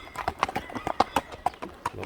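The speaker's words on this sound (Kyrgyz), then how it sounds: "Атты көрүп турасыздар туугандар" Hooves of Tumar, a horse, clip-clopping as it walks, a quick irregular series of sharp close knocks with brief gaps between steps.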